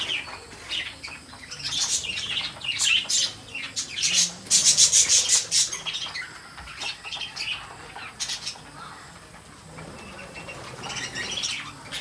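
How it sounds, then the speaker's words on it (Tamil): Lovebirds in an aviary at Amirthi Zoological Park in Vellore, Tamil Nadu, chatter in shrill bursts while wings flutter and rustle close by, loudest in the middle and fading toward the end. "இவ்வளோ நல்லாயிருக்கு பாருங்க லவ் பேர்ட்ஸ் சவுண்ட் கத்துறதே வந்து."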